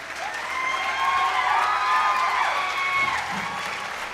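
Audience applause fills a hall at a Tamil stage talk in a Sri Raghavendra Sabha auditorium, a steady, close wash of clapping lasting several seconds, with some crowd voices mixed in and fading slightly toward the end.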